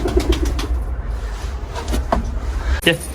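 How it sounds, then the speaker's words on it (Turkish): Pigeons in a newly built coop coo softly and rustle, with a brief wing flap near the end, set against steady low background hum. "İstanbullu güvercinimiz orada"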